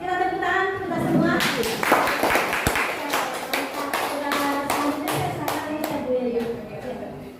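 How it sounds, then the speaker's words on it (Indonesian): A group of adults in a school mentoring session clap together in a room, a run of sharp, fairly loud individual claps in quick rhythm, with a voice speaking over the start and end. "Kita tepuk tangan kita semua."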